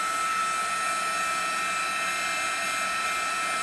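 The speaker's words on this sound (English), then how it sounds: "hit this with the heat gun, so a little noise here for just a minute" A heat gun blows with a steady, loud, unbroken whoosh of air close by while it dries a layer of gesso on a mixed media craft tag.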